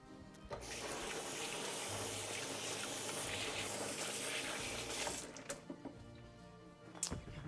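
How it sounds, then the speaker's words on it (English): Hands are washed under a running kitchen tap, a steady gushing splash of water into a sink lasting several seconds before it stops, leaving a few drips and small knocks. "I'm going to wash my hands quickly."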